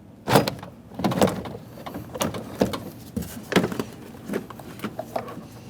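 Plastic door panel being pried and lifted off a 2003-2011 Mercury Grand Marquis rear door, with a series of close clicks, thumps and scraping rattles spread irregularly over several seconds.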